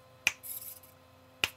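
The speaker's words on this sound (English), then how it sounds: "So you can see here if I snap my fingers," Two sharp finger snaps, about a second apart, set off a sound sensor on a servo-driven maker project; each snap is crisp and close, with faint room hiss between.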